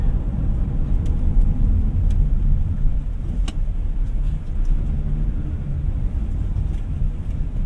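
A GAC M8 with a 2.0-litre turbocharged gasoline engine pulls hard under kickdown, giving a steady, heavy low rumble with road and cabin noise that stays even throughout, and no voices.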